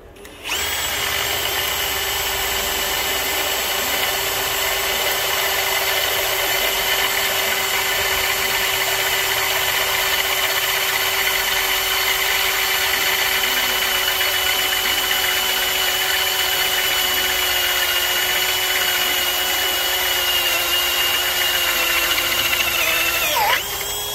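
A cordless Ryobi One+ HP PBLDD01 drill on a 4 amp-hour battery, clutch at 22 and low speed, bores through metal with a loud, steady high whine that holds unbroken for over twenty seconds before stopping.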